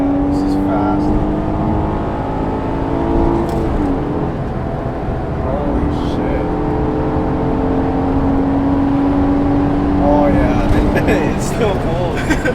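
A Honda Accord V6 fitted with an RV6 V2 long-tube J-pipe exhaust accelerates hard, its engine note climbing in pitch through several pulls with brief drops between shifts, loud and steady from inside the car.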